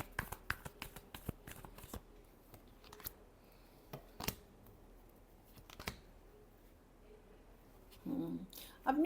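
Tarot cards riffled and shuffled by hand in a quiet room, a fast run of crisp flicks and snaps with pauses between bursts, close and fairly soft, with a brief louder handling noise near the end.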